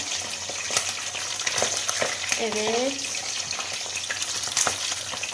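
Köfte meatballs frying in a pan give off a steady, close sizzle with occasional stirring clatter, while a person speaks briefly over it.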